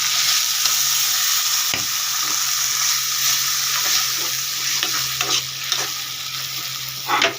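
Spice paste sizzles in a pan over tomato and onion greens for a prawn and yogurt curry, a loud continuous frying hiss broken by intermittent spatula scrapes and stirs, no speech.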